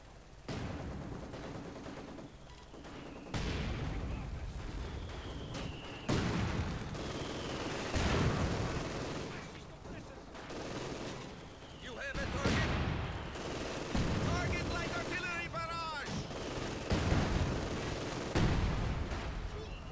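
Artillery shells in Company of Heroes 2 land in a string of heavy blasts every two to three seconds, mixed with crackling gunfire at moderate loudness, with voices in the battle now and then.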